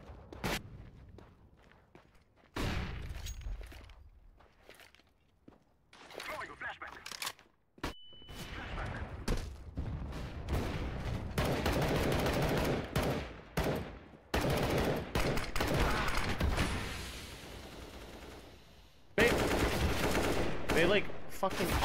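Sniper rifle and other gunfire in a CS:GO ranked match, heard as sharp, scattered shots and bursts spread over about twenty seconds, with someone talking loudly over much of the action.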